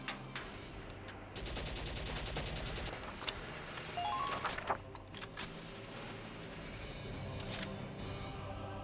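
Rapid volleys of gunfire from the Valkyria Chronicles battlefield, dense bursts of automatic shots layered with scattered single cracks, loud and sustained across the whole stretch with a few sharper spikes midway.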